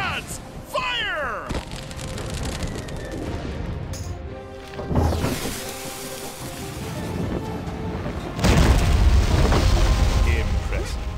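Cannon blasts from a pirate ship battle in the Pirate101 video game: heavy booming bursts over rushing sea wash, with a louder sustained blast near the end and game voices in the mix.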